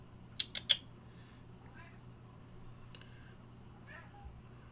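A pet cat gives a few faint, drawn-out meows in a quiet room during a game stream, following three sharp clicks at the start.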